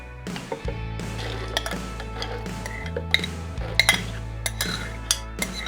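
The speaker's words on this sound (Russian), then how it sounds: "А пока я загружаю зеленую гречку с пшеном в блендер" Green buckwheat and millet are loaded into a blender, with close clinks and clatters of grain, container and utensils over a low steady hum, and several sharp knocks scattered throughout.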